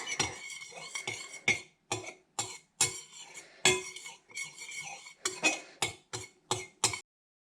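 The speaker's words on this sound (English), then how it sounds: "Let's just mix these together." Clinks and scrapes of a utensil against a bowl while mixing scented paste ingredients, a steady series of sharp, close taps and knocks in an uneven rhythm, heard alone without speech.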